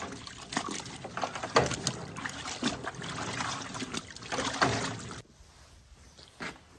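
Water splashes and trickles as a gray fox fur is swished and rinsed in fresh water, in irregular bursts close up, then the sound drops away abruptly near the end.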